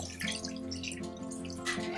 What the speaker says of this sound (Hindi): मैं इसमें तकरीबन 2 कप पानी डाल रही हूँ फिलहाल